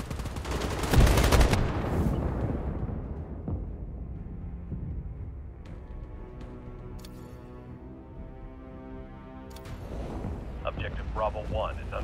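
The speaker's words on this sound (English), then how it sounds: "Our artillery is commencing fire." Artillery fire in the World War 3 video game opens with a heavy, roaring blast that rumbles and fades over several seconds, with faint tonal game sounds and a distant voice beneath.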